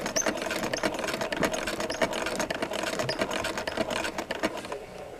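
A hand-cranked 237 sewing machine stitches at a quick, even clatter, its needle mechanism ticking rapidly and steadily up close, then trailing off at the end with no talking.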